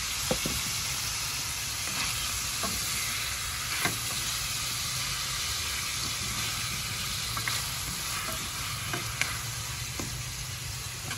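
Adobong tauban with bell pepper sizzles steadily in a frying pan, with a constant hiss of hot oil and occasional scrapes and clicks of stirring. No one speaks.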